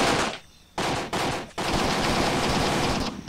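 Sustained gunfire from a video game battle in Graviteam Tactics, dense automatic bursts with brief pauses, loud and continuous with no talking.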